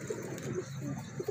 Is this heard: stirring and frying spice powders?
no